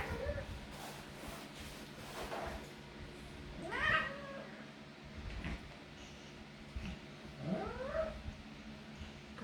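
Matted Persian cat meowing and moaning while being groomed with a comb, two drawn-out wailing meows close by over steady background hum and faint rustling, with a person talking softly.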